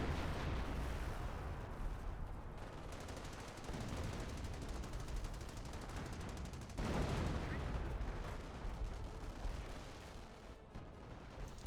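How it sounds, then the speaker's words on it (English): Continuous roar of artillery and gunfire in a war video game, a dense, loud barrage rumbling with scattered blasts throughout, with a short dip partway and a fresh swell after. "Is that artillery right here? It is."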